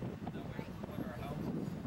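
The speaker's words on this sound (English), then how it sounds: "It's windy." Gusty wind buffets the microphone in a steady low rumble, with faint voices in the background.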